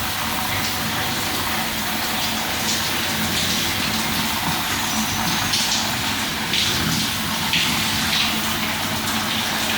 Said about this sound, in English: The water is flowing.